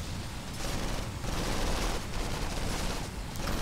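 Dense, continuous barrage of booming cannon fire and explosive blasts in the racing video game Skydrift, loud and unrelenting throughout with no pauses.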